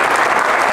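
A comedy club audience claps together at a stand-up show, a dense, steady wash of close hand claps filling the room with no pause.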